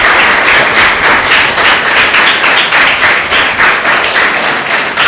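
A loud, sustained round of applause for the acharyas at a school yajna ceremony, with many people clapping steadily and densely, close by and filling the room throughout.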